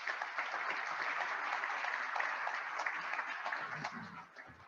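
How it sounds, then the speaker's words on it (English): Sustained audience applause for a panel at a downtown state-of-the-downtown event, a dense steady wash of clapping that holds evenly for several seconds before tapering slightly at the end. "So please, let's give a round of applause to our whole panel."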